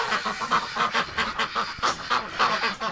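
A crowded flock of wintering ducks and geese honks and quacks loudly and continuously in an enclosed shelter, calls overlapping in rapid bursts close by.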